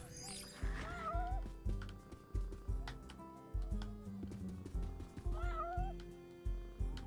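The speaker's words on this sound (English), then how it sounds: "I'm gonna get up to the cat, and the cat's gonna run away from me" A cat in the video game Ben 10 Power Trip meows several times as it runs away, shrill cries over steady thumping game sounds and low music.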